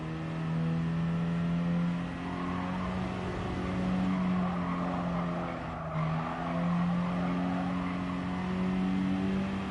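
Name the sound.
car engine downshifting in video game Gran Turismo Sport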